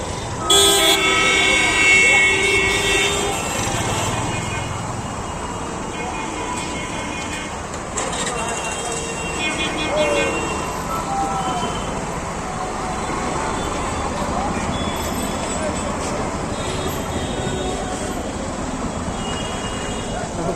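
Busy street traffic while crossing a road, with repeated car horn toots layered over a constant roar of engines, and someone talking throughout.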